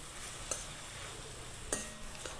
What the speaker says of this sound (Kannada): ತೆಂಗಿನಕಾಯಿ ಹಾಕ್ತಾಯಿದ್ದೀನಿ. ಸ್ವಲ್ಪ ಫ್ರೈ ಆದರೆ ಸಾಕು